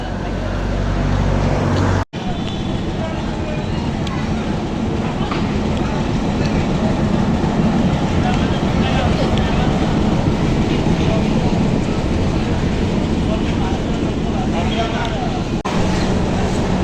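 A train from Burimari comes into a station and halts, producing a loud, steady rumble close by that runs the whole length after a brief cut near the start. Speech runs beneath it.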